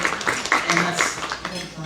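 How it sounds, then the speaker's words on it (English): Applause for gold sponsors at an Economic Progress Institute event, a dense crowd of clapping heard together with a voice speaking. "that's applause till the end of the list"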